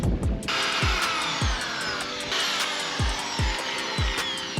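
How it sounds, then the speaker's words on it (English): Larger screws being driven into boat deck chain plates with a power driver, a continuous whirring buzz with rhythmic sharp clicks roughly every half second, close and fairly loud. "So I'm gonna get a little invasive and install these screws."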